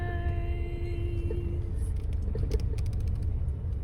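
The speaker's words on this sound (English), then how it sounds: "I'm in my car, about to go into my garage" A car rolls slowly into a home garage, its engine giving a low, steady rumble that stays close and constant throughout, with no talking.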